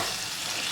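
Chicken mixed with yogurt sautéing in a pan, a steady loud sizzle and hiss of frying throughout with no talking.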